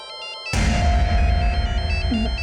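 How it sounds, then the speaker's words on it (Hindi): Loud burst of a phone ringing for an incoming call, cutting in suddenly after a quiet electronic tone pattern and continuing steadily with a bright, buzzy ring over a noisy indoor background. "ये मीनल को किसका फोन आ गया?"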